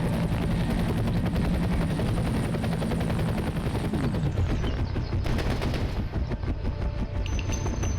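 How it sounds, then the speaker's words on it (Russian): A combat helicopter in the shooter F.E.A.R. thunders with loud, steady rotor chopping while gunfire crackles around it, the rotor pitch dropping partway through as the craft shifts away, with no speech. "Так, вертолет это всегда плохо."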